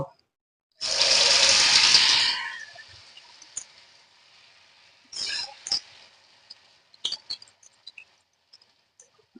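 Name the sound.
cabbage pakora fritters frying in hot oil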